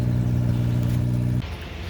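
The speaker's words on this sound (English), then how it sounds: "that's the Corsa, guys, starting, running under its own power" Rebuilt Opel Corsa Lite 130 engine idling steadily and loudly close by with a strong low hum, noisy through an unwelded exhaust, then dropping sharply in level near the end.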